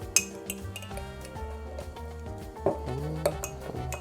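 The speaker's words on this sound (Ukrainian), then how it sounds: "перемішуємо до розчинення" A utensil stirs syrup in a container to dissolve it, with repeated light metallic clinks and scrapes against the sides in an uneven rhythm over soft background music.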